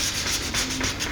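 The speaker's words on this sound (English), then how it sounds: "I'm just, you know, giving it a light sanding prior to the oiling." Fine 800-grit sandpaper is rubbed lightly over a guitar headstock being rebuilt, giving short, close back-and-forth scratchy strokes with no talk.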